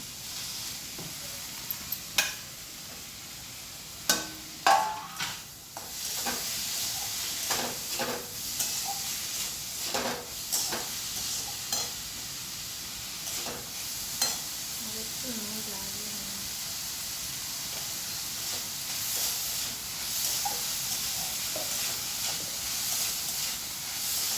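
Capsicum hits a frying pan of cooking vegetables with a steady sizzling hiss, broken by repeated scraping and clacking stirs. A voice speaks now and then underneath.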